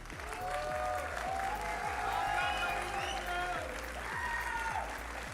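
A large crowd at a BLAST esports match applauds loudly and continuously, dense clapping with cheering, while music with a thumping beat plays underneath.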